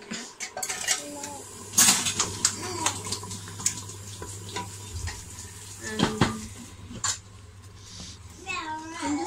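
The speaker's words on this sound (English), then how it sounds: "I'm just going to stir it." Stirring panela, muscovado sugar dissolving in a boiling pot for biko, with scraping and clinking utensil sounds and a soft bubbling hiss underneath, moderately close, with a voice talking at times.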